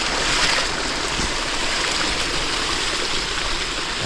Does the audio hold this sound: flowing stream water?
yes